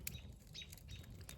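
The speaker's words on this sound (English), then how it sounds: "it's quiet here except for all these birds, which I love hearing, and they can go all night" Birds chirp softly at night at a campground, a faint cluster of high twittering calls over a quiet background.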